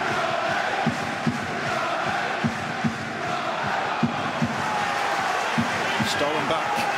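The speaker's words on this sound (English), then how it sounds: "It's got the crowd going too." Stadium crowd at a Plymouth Argyle football match, a steady broad roar of many voices rising as an attack opens, with scattered claps and thumps throughout and commentary running over it.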